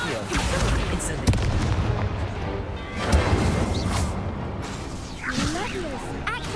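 Combat in Hogwarts Legacy: an Incendio fire spell cast amid booming, crackling spell impacts and bursts, several loud hits spread across the stretch, with voices over the action.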